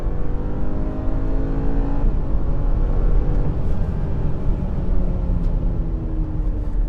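A 2022 BMW X3 sDrive 30i with a four-cylinder engine accelerates hard in sport mode, its engine note climbing steadily and dropping briefly at an automatic upshift before rising again, loud and continuous throughout.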